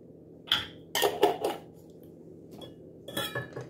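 Metal utensils clink and scrape against a pan while broccoli fritter mixture with seasonings is stirred, coming in short, irregular bursts with quiet gaps between.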